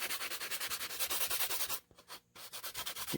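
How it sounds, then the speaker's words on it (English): A drywall sanding sponge rubbed briskly over a workpiece for a magazine holder, giving quick rhythmic scratchy strokes up close, with a brief pause before the rubbing resumes. "after that, a little bit of sanding sponge"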